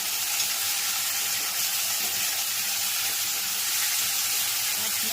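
Vaseti leafy greens bhaji sizzles and fries in a pan, a steady, close hiss of cooking with no talk.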